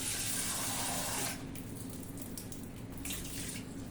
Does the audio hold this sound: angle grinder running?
no